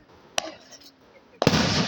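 July 4th fireworks, a sharp pop near the start followed by a louder, sustained crackling burst toward the end, with faint voices in the background.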